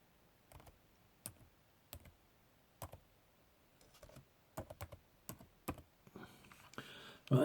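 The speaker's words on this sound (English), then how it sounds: "I can't type without looking at the screen" Typing on a computer keyboard, sparse separate key clicks that quicken into short bursts, close and quiet, alone.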